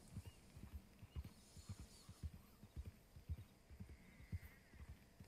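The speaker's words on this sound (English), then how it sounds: "Get on your horse, haul ass over the hill." Horse galloping across open ground in Red Dead Redemption 2 Online, with steady rhythmic hoofbeats thudding low and close throughout, plus faint ambient wind and no talk.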